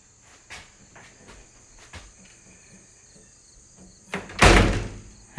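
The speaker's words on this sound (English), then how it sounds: "I like the sound of the screen door." A screen door opens with a few light rattles and taps, then closes with a loud slam near the end, against a steady background of chirping crickets.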